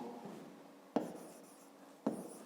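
Pen writing math in a notebook, soft scratchy strokes close by with two sharper taps as the pen touches down, quiet and alone.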